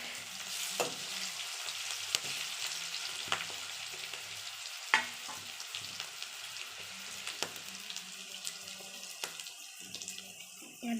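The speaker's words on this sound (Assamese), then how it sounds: "পিঁয়াজখিনি অকণমান ৰঙচুৱা হ'লত ইয়াত থেতালি থোৱা আদা নহৰু অকণ দি দিম। এইখিনি ৰঙচুৱাকৈ ভাজি" Onion with crushed ginger and garlic fries in a pan, a steady soft sizzle broken by occasional sharp clinks and scrapes, with no one talking.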